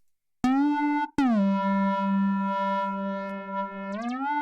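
Bright synth lead with a filter rolling off the very top end, playing sustained tones: a short note, a brief gap, then a long held pitch that shifts upward near the end, clean and alone with no talk.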